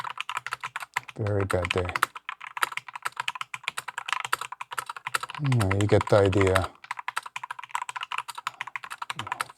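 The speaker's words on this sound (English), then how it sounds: "Hopefully you can hear some of the sounds of the keys." Rapid clacking keystrokes from a mechanical keyboard fitted with linear Gateron yellow switches, typed steadily and close up while someone talks in short bursts over the keys.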